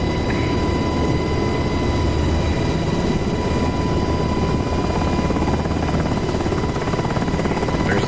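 Helicopter in the DCS World flight simulator descending toward a helipad, its rotor and engine a dense, steady drone with a thin whine on top, loud and constant throughout with no voices.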